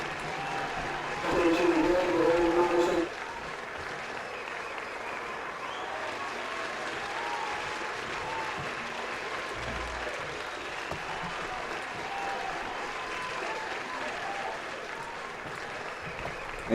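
Crowd at the Indianapolis 500 cheering and applauding as the race gets underway, a louder burst of cheers with a sustained tone rising briefly near the start, then a steady broad roar of the large crowd continuing throughout.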